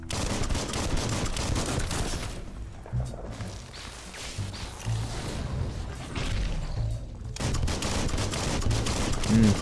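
Sustained automatic gunfire from the video game Biomutant rattles in loud, dense bursts, easing briefly in the middle before the volley returns at full intensity, with impact whooshes mixed in.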